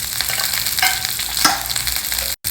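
Steady, loud sizzling from groundnuts, chana dal, chopped green chilies and curry leaves frying in ghee, with stirring scrapes running throughout and no one talking.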